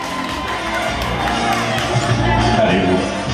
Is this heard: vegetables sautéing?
no